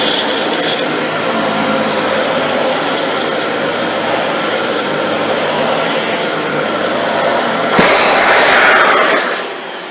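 A Dyson Ball Multi Floor 2 vacuum with its brush roll on works over low pile carpet, a loud steady whirring roar that swells briefly louder near the end.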